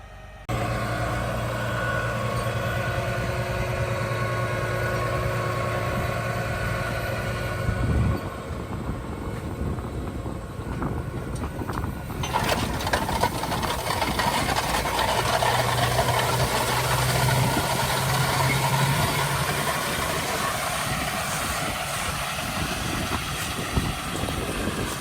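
A very heavy, solid machine preparing a seed bed runs continuously with a steady, loud engine drone. The tone and load shift partway through, with no talk.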